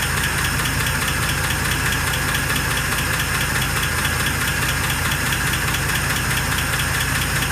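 Cold 1948 Pontiac Torpedo engine idling just after start-up, a steady close mechanical hum with even ticking and faint knock, unbroken and alone for the whole stretch.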